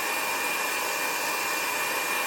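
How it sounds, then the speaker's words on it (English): Heat gun blowing steadily on a napkin-decoupage Christmas ornament, a continuous loud broadband hiss with a high whine that runs without pause from start to finish. "Now when you use the heat gun, you want to move it around and not just leave it in one place."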